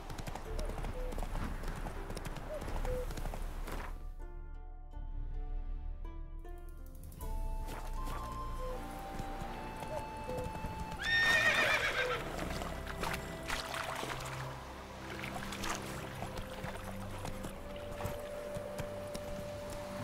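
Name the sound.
Roach the horse galloping and neighing, The Witcher 3 video game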